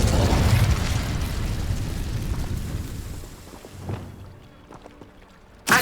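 The Incendio fire spell cast in the video game Hogwarts Legacy: a loud fiery burst that roars and crackles, then fades over a few seconds, ending with a sharp thump.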